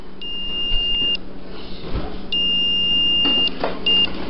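A multimeter in continuity mode sounds a thin, steady electronic beep each time its two probes touch. The tones come in several short bursts of varying length over a faint background hum, heard close up.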